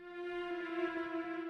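Synth string patch from Arturia Analog Lab holding a soft, sustained harmonic tone, quiet and smooth, played alone for a moment.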